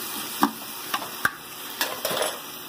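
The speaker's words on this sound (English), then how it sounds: "we're going to put in about a tablespoon of garlic, and we're going to sweat that and saute down that with the vegetables" Garlic and vegetables sautéing in a stew pot make a soft steady sizzle. Several sharp spoon scrapes and stirring knocks break through it, and no one speaks.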